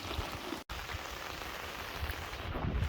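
Steady rain pours during a storm in the Sundarbans, a dense, even hiss with a brief dropout near the start and a slight swell toward the end.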